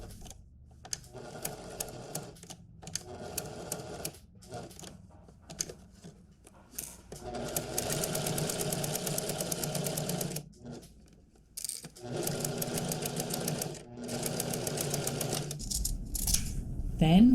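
Sewing machine stitching waistcoat lining around a curve in short stop-start runs, each burst of rapid needle ticking separated by pauses for repositioning, fairly close and moderate in loudness.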